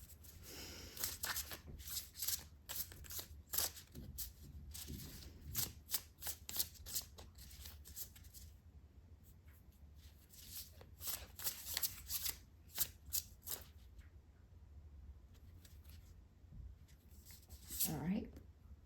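Tarot cards being shuffled up close, a long run of quick riffling, flicking bursts that come in uneven clusters with short pauses, fairly quiet, with some speech in between.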